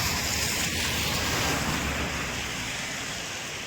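Rushing river water roars steadily where two rivers meet to form the Ganga, a loud, dense, continuous wash with wind buffeting the microphone and no voices.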